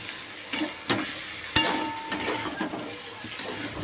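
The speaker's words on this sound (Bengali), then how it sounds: "এবার ভালো করে এটাকে কষাবো কষিয়ে তারপরে জল দেবো" Chicken with spice masala is stir-fried in a pan over a low flame, with a steady sizzle and close, intermittent scrapes and knocks of a spatula stirring the food, and no talking.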